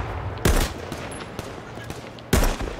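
Two loud, sharp explosive blasts from grenades in the H1Z1 battle game, close by, with fainter scattered gunshots between them.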